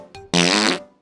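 A cartoonish fart sound effect for a children's folk tale: a short squeak, then a loud, buzzing blast lasting about half a second that fades out quickly.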